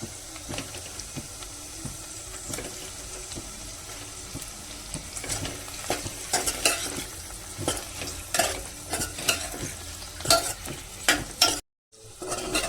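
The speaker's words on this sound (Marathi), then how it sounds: "अंडी चांगली तेलामध्ये फ्राय झाली आहेत" Slit eggs fry in hot oil with a continuous sizzle, and a spoon stirs and scrapes the pan repeatedly. The sound cuts out for a brief moment near the end, then the frying picks up again.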